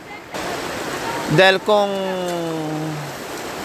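Strong mountain river current rushing past, a steady broad wash of flowing water close by that continues throughout, with a person speaking over it.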